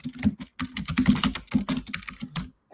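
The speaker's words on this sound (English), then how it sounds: "I really should mute the keyboard when doing this" Rapid typing on a computer keyboard, close and clear, with irregular bursts of clacking keystrokes and brief pauses between them.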